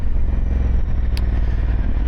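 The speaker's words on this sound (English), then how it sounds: "But the exhaust sounds really good. It's not overly loud" Honda Transalp motorcycle with a Dominator aftermarket exhaust riding along, a steady low engine thrum with pulsing exhaust note and wind rush, close and fairly loud, no talk.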